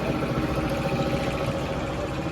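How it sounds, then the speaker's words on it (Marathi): A motor running steadily at a roadside tyre repair spot, a dense, even mechanical hum with a low rumble that holds unchanged throughout. "इकडे मोटर चालू आहे."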